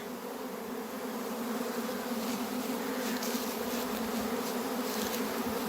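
A honeybee swarm pours out of the hive, a dense, steady buzzing drone of countless wings holding at an even level throughout, close and continuous with no voices.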